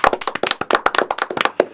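A small group in a studio claps for a broadcaster, a brisk run of sharp, close handclaps, uneven and fairly loud, with no talk over it.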